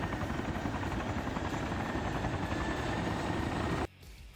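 Mi-8 Super Hind helicopter in a multiplayer military video game, a steady, loud rotor and turbine drone that holds for almost four seconds before cutting off abruptly to a quieter hum.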